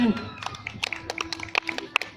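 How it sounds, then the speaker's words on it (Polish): Scattered hand claps from a small crowd at a medieval knightly games show, short sharp claps spread irregularly over a couple of seconds with voices murmuring underneath. "Super Rafał, oklaski"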